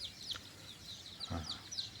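Young hybrid wild junglefowl chicks give thin, high peeping chirps in quick repeated bursts, fairly faint, with a soft low thump partway through and no talk.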